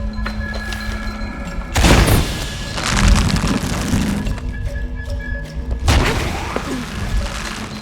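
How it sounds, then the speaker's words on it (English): Heavy booming blasts in the video game Shadow of the Tomb Raider, with two loud detonations about four seconds apart over a continuous rumbling game backdrop and scattered debris thuds. "Have to create an explosion."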